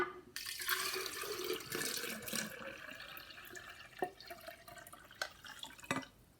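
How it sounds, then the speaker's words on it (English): One litre of water is poured from a container into a vase, a close, splashing, gurgling stream that runs for several seconds and then breaks into a few separate drips and small splashes. "I've got 1 litre here, and I'm going to pour it into the vase to see"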